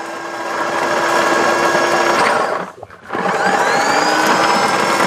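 An electric vegetable peeling machine runs while peeling garlic, a loud steady whirring motor hum with a rattling tumble, briefly dipping near the end before returning to full speed.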